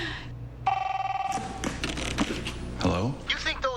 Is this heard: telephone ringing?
yes